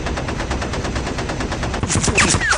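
Rapid, steady burst of machine gun fire aimed at an enemy fighter in the B-17: Queen of the Skies game, loud and continuous with sharper, brighter impacts near the end.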